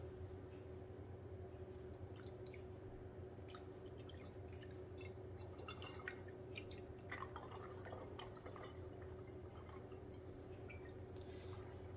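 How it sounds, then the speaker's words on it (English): Faint thick melted tallow dribbling and dripping into a glass jar over a low steady background hum, with scattered small drips. "I'll just pour a little more in this one now."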